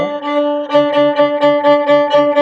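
A violin repeats one open-string note in quick, even sixteenth-note strokes, a steady rapid pulse, played up close without any voice.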